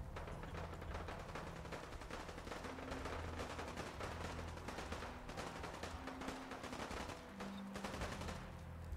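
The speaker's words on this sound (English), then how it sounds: "What are we shooting at?" Sustained automatic gunfire in Fallout 4, rapid dense bursts running continuously at steady loudness under game music and ambience, with no talk.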